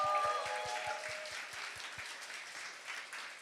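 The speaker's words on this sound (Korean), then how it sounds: "우리 더 크게 박수할까요?" Applause from a church congregation during a Sunday service rings out near the start, a brief burst that fades into a soft, distant patter of clapping.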